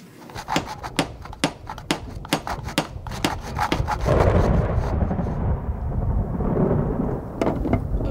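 Thunder rumbles and cracks through a storm with rain, a series of sharp close strikes followed by a long rolling roar and later more cracks, loud and without speech.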